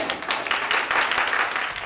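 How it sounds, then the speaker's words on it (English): A studio audience applauds loudly at the end of a challenge on a game show, with dense continuous clapping holding steady for about two seconds. "Let's give them a massive round of applause."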